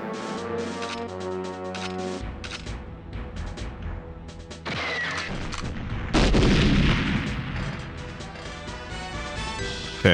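Shots ring out in the Nintendo 64 shooter GoldenEye 007 as single, sharp gunfire bursts that punch over a steady game music bed, with louder blasts at intervals and no talking.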